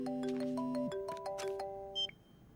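A telephone rings during a call, giving a short electronic ringing tone with a repeating melodic pattern, fairly quiet. A brief beep at the end cuts it off.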